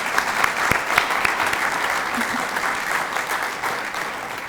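A chamber audience gives a steady, dense round of applause at a gift announcement event, many hands clapping evenly throughout with a few sharper individual claps standing out.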